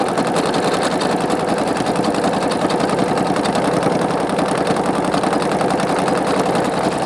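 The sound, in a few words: Singer Quantum Stylist 9960 sewing machine sewing metallic thread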